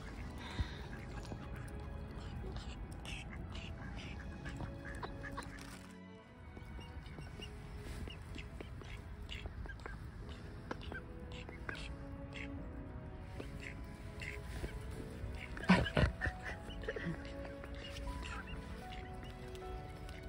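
Ducks and other birds crowding in for hand feeding on an October morning, a steady busy chatter of soft calls and quacks close by, with a brief lull midway and a louder burst of activity near the end.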